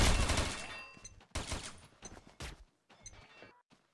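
Rapid bursts of gunfire from the online shooter Combat Arms, with P90 submachine guns on the Junk map, crackling in several close volleys separated by short pauses.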